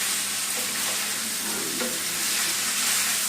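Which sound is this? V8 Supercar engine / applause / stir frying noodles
stir frying noodles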